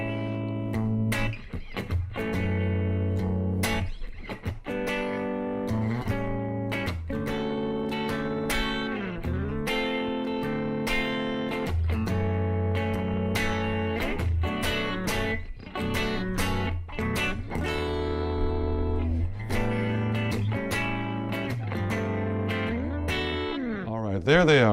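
Electric guitar strumming a run of sustained chords through a compressor, steady and full, with sharp pick attacks and brief breaks between changes, loud and close with no talk.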